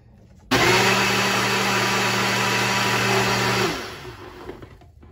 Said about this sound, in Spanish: Licuarlo nuevamente.